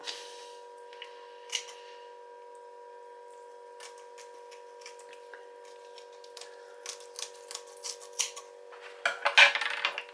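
A knife cuts the tail off a fish during filleting, making faint snipping and crunching clicks at irregular intervals that build into a louder cluster near the end, over a steady electrical hum.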